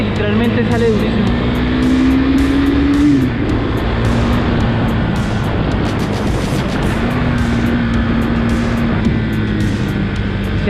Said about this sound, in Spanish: Es una moto que literalmente sale durísimo.